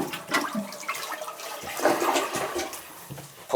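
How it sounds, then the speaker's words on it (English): An old household toilet flushes up close, with rushing, gurgling water swelling and churning through a short stretch, loud and continuous without any talking. "Now listen to this toilet now. All right, so now it flushes."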